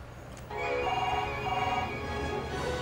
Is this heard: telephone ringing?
yes